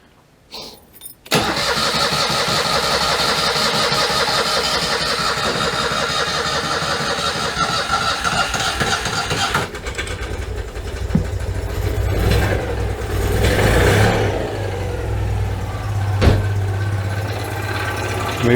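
Citroen 2CV engine cranks briefly, fires up and settles into a steady, buzzy idle run close to the microphone, with a shift in tone partway through and a few clanks near the end.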